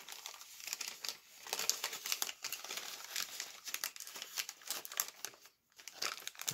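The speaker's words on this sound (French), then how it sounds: "j'enlève le petit scotch." Continuous crinkling and crackling close up as adhesive tape is peeled off a package of Pokémon cards, with brief pauses between pulls.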